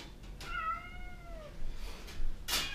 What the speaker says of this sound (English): That's a big cat.